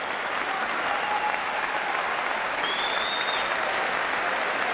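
Steady, sustained applause from a crowd at a boxing contest fills the space as a dense wash of clapping, loud and unbroken from start to finish.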